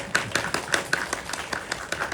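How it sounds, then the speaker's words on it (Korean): Audience members at a Korean film screening Q&A clap for the director, a steady run of evenly spaced handclaps that sound close and fairly loud, with no talking over them. "감독님께도 박수 한번 부탁드릴게요"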